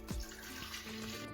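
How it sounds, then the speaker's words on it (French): Water pours briefly into oil in a lab beaker while a base cream is being made. A soft, close trickle runs under a faint background hum. "nous allons verser de l'eau dans de l'huile"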